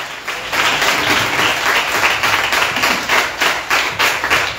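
A congregation claps and cheers together at a nighttime prayer and deliverance gathering, with loud, sustained, dense applause that rises and holds steady throughout.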